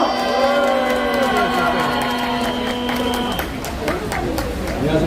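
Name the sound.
audience applause welcoming a speaker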